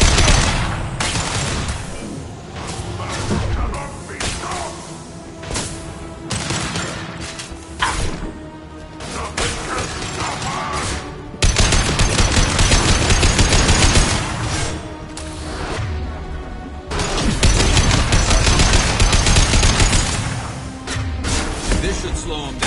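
Rapid bursts of gunfire and crashing impacts from a Mass Effect 2 firefight, loud and dense with sustained automatic fire broken by brief lulls, with game dialogue in between.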